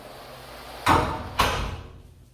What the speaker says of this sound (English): And we unlock this door.